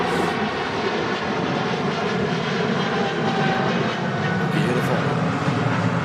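Loud, close roar of an EasyJet airliner at Manchester Airport on a windy day, a steady heavy engine rumble with a whining edge that holds throughout, with people talking faintly beneath it.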